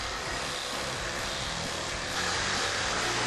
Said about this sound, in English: I'm going to take the Sawzall and cut it at an angle